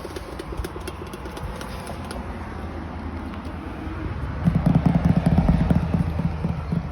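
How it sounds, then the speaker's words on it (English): Engine noise from cars rumbles constantly outdoors, swelling louder near the end as a vehicle passes close by. "I do apologize for the cars."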